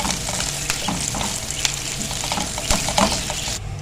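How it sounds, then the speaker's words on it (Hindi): Steady crackling sizzle of chilies frying in hot oil for a spinach and radish dish, continuous and close, with occasional louder pops and spatters. "थोड़ा सा फ्राई करना है"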